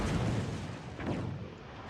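Naval gun salvo from a warship in World of Warships, a heavy booming burst near the start and a second rumbling blast about a second later, with low rumble filling the whole two seconds and no talk.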